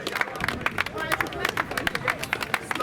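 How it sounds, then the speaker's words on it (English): A crowd claps in a rough, repeated rhythm, sharp close hand claps over a busy background of voices and chatter, fairly loud throughout. "Keep on clapping."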